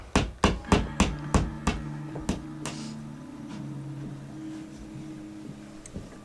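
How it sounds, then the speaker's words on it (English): A nail is hammered into a wall with about eight sharp, close blows at a quick steady rhythm, then a low tonal hum lingers alone afterward. "What are you nailing?"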